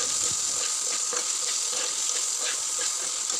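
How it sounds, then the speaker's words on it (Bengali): Cut potatoes with salt and turmeric fry in hot oil after cumin seeds, giving a steady close sizzle with occasional soft stirring scrapes and no voices. "এখন কেটে রাখা আলুগুলো দিয়ে পরিমাণ মতো নুন আর হলুদ গুঁড়ো দিয়ে ভালো মতো নাড়াচাড়া করে নেব"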